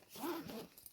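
A keychain clip snapping onto the zipper of a small American Girl doll backpack, a brief close rustle and metallic zip-like scrape lasting under a second, with no talk.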